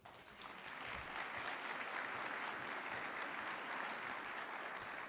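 A large audience at a transit event gives a sustained round of applause, dense and steady from start to finish after a brief rise.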